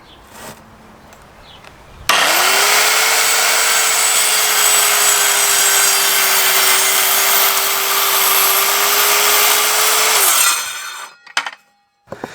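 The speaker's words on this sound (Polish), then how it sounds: "piła jak na mój gust ucięła troszeczkę za dużo" An Evolution R185CCSL circular saw rips through wood for about eight seconds, a loud, close, steady whine under load that starts abruptly and cuts off with a brief clatter at the end.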